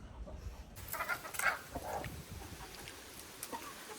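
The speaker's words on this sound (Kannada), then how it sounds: "ಕೋಳಿಗಳು ನೋಡಿ" Scattered soft clucks from several chickens, fairly close, in short irregular bursts over low outdoor background noise.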